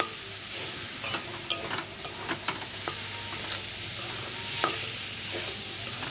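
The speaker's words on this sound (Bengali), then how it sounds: "দিয়ে চিনিটা আমি দিয়ে একটু নেড়ে দিলাম" Kalmi greens fry in a pan as sugar is stirred in, a steady sizzle under repeated scraping strokes and soft clicks of a spatula against the pan, with no talking.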